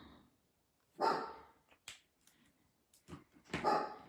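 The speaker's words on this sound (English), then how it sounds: "You guys wouldn't know what to do with a live that didn't have my dog barking." A dog barks and yelps in short bursts, close by, with quiet gaps between the sounds.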